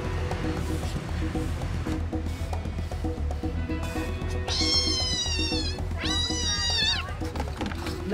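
Stray cats at Mandaluyong City Hall meow over a steady outdoor hum, with two long, loud wavering meows near the end.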